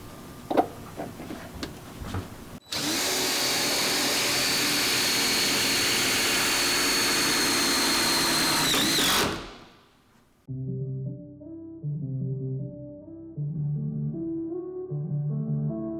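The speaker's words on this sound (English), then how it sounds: "you'll take a little bit of time and some force at the beginning for the tip to drill the hole" A steady high-pitched drill whine as a self-tapping screw drills and drives into a van's framing, loud for about seven seconds, then spins down; afterward, soft background music plays alone.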